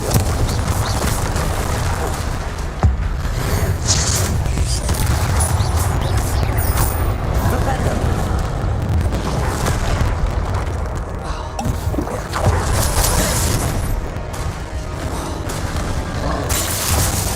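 Blasting-spell explosions in the video game Hogwarts Legacy land as repeated heavy booms and crashing impacts, loud and dense, over a continuous backdrop of combat noise with no talk.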